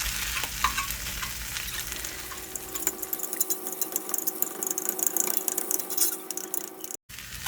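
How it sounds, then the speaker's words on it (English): Sausage meat is broken up and stirred as it fries in a pan, with a steady close sizzle and scraping stir sounds running throughout, and no talking. "So let's break it up and let's cook it."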